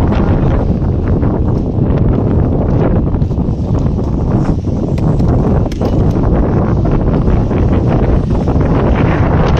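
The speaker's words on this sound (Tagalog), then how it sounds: "Medyo malakas ang hangin" Strong wind buffeting the microphone in a loud, continuous roar with gusty rumbling throughout and no clear voices.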